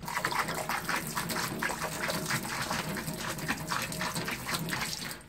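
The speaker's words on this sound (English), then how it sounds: "we're going to dump a little bit down this one" Liquid is poured down a drain during winterizing of a mobile home trailer in Ohio, making a steady, close gushing splash that runs continuously for about five seconds with no talking.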